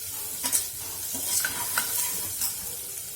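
Onions frying in a pan with salt added, a continuous gentle sizzle with a few soft stirring scrapes, close and steady, with no voices.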